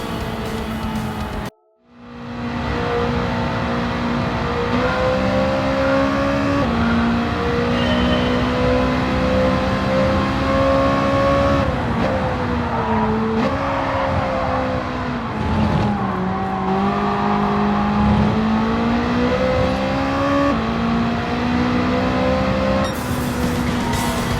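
Race car in Gran Turismo 7 lapping Fuji circuit, engine droning loud and continuous with pitch dipping under braking and rising again through acceleration, after a brief cut near the start.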